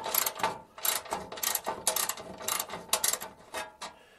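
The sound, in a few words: wrench loosening bolts on a car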